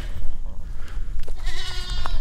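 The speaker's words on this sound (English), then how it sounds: "I think I forgot to mention we have two baby goats" Baby goats bleat in short, nasal cries on a ranch, a couple of close calls near the end over outdoor background noise.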